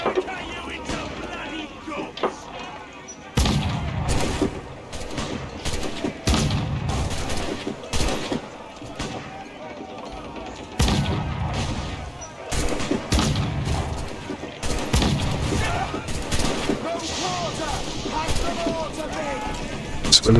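Naval cannons fire during a sea battle in the pirate video game Assassin's Creed Black Flag, heavy booming volleys in repeated bursts over a constant roar of wind, waves and combat noise, with voices shouting among the blasts.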